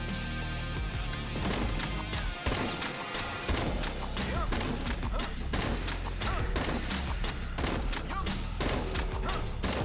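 Loud, relentless gunfire in the first-person shooter BPM: Bullets Per Minute, with dense volleys of shots, crashing impacts and thuds packed together for the whole stretch.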